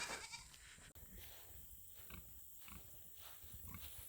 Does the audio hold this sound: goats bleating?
yes